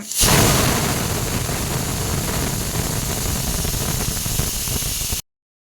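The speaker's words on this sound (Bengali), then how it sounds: "আর ডালে এখন সিটি পড়ছে, ডালটা সিদ্ধ হচ্ছে, প্রেশারে দিয়েছি।" A pressure cooker holding lentils lets out a loud, continuous hissing whistle of steam that holds steady for about five seconds before cutting off.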